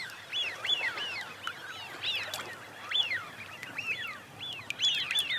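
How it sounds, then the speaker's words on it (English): Eurasian wigeons feeding on Chilika lagoon give repeated whistling calls, sharp rising-and-falling notes scattered through a flock at moderate distance over soft water ambience. "for these Eurasian widgeons, it's time to replenish their reserves after a long journey"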